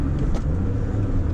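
Steady engine rumble from a Mazda Miata MX-5 on the road, heard from inside the cabin as a continuous low drone with a smooth, even tone throughout.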